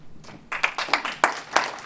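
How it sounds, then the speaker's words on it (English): A short burst of audience applause at a venture capital panel, with sharp, uneven claps rising and falling, moderately loud and fairly close. "Let's hear it for CJ."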